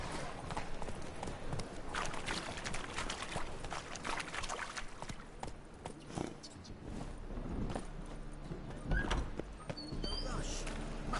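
Roach the horse galloping in The Witcher 3, a rhythmic clip-clop of hooves running continuously beneath background game sounds and a voice speaking.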